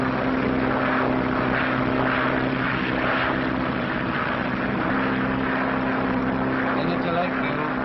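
Propeller engines of a 1930s airplane drone steadily in flight, a continuous loud hum with strong low harmonics, with voices talking over it.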